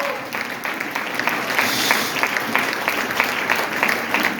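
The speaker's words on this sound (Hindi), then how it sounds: "जोरदार तालियां साथियों" Audience at an indoor program in Mughalsarai applauding loudly, a dense, steady wash of many hands clapping that holds without pause from start to finish, close and full.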